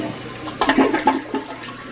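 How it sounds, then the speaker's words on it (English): A newly installed push-button toilet flushes with a brief, strong rush of water that swells and then fades, heard up close with no talking. "it barely used any of the water and it flushed really good"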